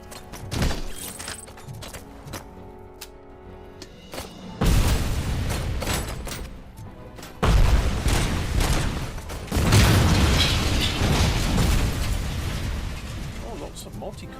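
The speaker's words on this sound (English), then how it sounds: "lots of multi-cut explosions in this one as well." Game explosions boom repeatedly, heavy and loud, layered with mechanical clanks and crackling bursts that build in intensity toward the end.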